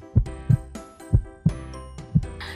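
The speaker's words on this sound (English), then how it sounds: "Sounds like a good strong heartbeat." Toy veterinary checkup heartbeat: five steady, evenly spaced low thumps with a ringing electronic tone, close and fairly loud, no talking.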